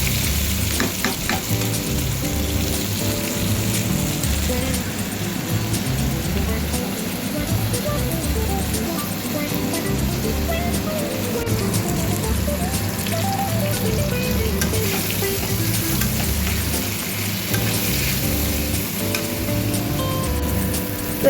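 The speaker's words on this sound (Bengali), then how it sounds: "তেলে কালো জিরে ফোড়ন দেবো এবং তারপর বেগুনগুলো আরেকটু ভাজবো" Eggplant pieces frying in hot oil with black cumin seeds, a steady loud sizzle with repeated stirring and scraping of a spatula against the pan throughout.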